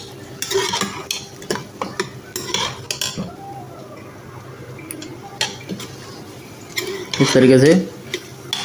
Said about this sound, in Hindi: 3 से 4 मिनट तक इसको भुनाई करेंगे। चम्मच चलाते रहेंगे इसमें।